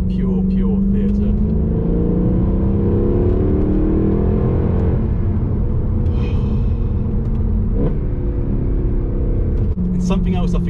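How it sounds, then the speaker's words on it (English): Mercedes W204 C63 AMG with its V8 engine revving, a loud continuous rumbling drone with rising and falling pitch sweeps, heard close and alone. "it doesn't matter what rev range you're at, it's a great tone of this V8"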